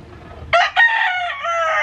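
A rooster crows loudly and close by, a single bright call that breaks in after a short pause and holds steady to the end, with no talk over it.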